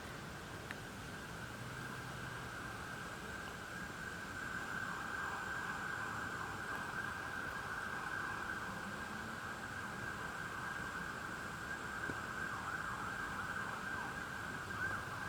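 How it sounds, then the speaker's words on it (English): A distant police siren wails steadily in downtown Schenectady, faint and far off under a constant background hum of traffic and noise. "Now, that's a police car going."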